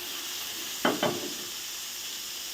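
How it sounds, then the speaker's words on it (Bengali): Fish heads frying in hot oil for a pumpkin greens curry: a steady close sizzle throughout, with two brief louder crackles of spitting oil near the start. "মাছের মাথা দিয়ে দিচ্ছি মিষ্টি কুমড়া শাক রান্না করার জন্য।"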